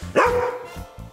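A small dog lets out one sharp, close bark, then a few softer short yips and huffs follow in quick succession.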